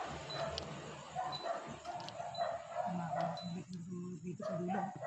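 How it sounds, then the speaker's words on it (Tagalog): Dogs barking at night in a cemetery, several sharp yips and barks at a moderate distance, repeating irregularly under people talking quietly. "Tatawa na aso. May aso guys."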